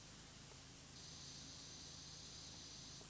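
A pressure washer sprays in a relaxed cleaning video game, giving a steady, loud, broadband hiss that runs throughout and shifts slightly in tone partway through.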